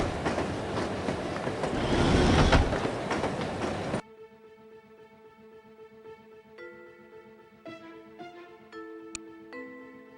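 A train rolls along its rails in the video game No One Lives Forever, a loud, dense rumble for about four seconds before it cuts off abruptly and gives way to quieter tonal music.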